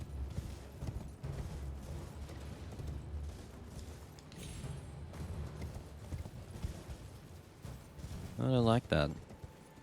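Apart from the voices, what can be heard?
horse hooves galloping in video game Elden Ring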